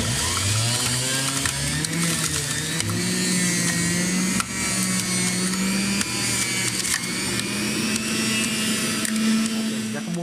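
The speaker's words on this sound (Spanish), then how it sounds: "vamos a prender el extractor de jugo para sacarle el jugo al apio y al perejil al mismo tiempo" An electric juice extractor grinding celery and parsley, a loud continuous motor whine and hum with shifting pitch and rattling as the stalks feed through, running steadily throughout.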